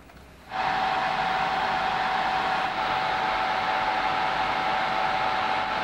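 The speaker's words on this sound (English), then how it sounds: "it's an extract system with an active carbon filter. So it sucks the fumes into there." A bench-mounted ESD soldering fume extractor with an active carbon filter starts up and runs as a steady, loud airy whoosh with a faint constant whine, holding evenly to the end.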